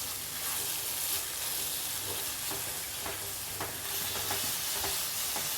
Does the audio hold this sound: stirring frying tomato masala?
yes